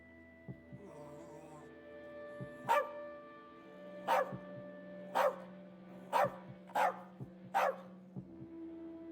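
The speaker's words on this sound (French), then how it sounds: "C'est un chien, gros malin." A dog barks in the video game As Dusk Falls, about six sharp, loud barks spaced a second or so apart over a steady low hum and faint background music.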